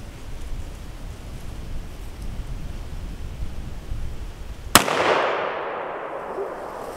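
A Desert Eagle pistol fires a single sharp, loud shot at a paper target outdoors, the crack ringing out and decaying over steady background noise.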